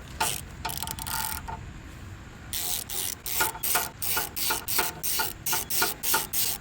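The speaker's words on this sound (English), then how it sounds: "Ratchet." A ratchet wrench tightening valve cover bolts on a Briggs & Stratton V-twin engine, heard up close as a steady run of sharp clicking strokes that settles into a regular back-and-forth rhythm, with no talking.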